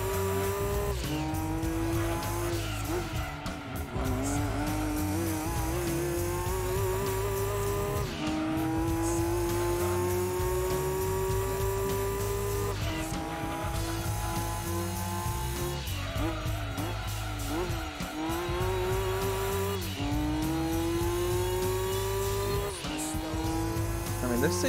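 A race car in the Gran Turismo 2 video game revs hard with repeated gear-change drops in engine pitch, tires squealing as it slides and the tail steps out, while someone commentates over the steady, loud engine note.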